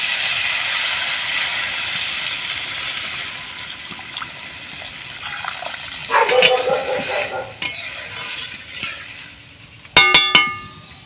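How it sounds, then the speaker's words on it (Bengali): A pan of fish chachchari curry sizzles and fries steadily, then water is poured in around the middle, bringing a louder hiss and bubbling, followed by sharp clinks of a utensil near the end; no talking. "এবার আমি জল দিয়ে দেবো।"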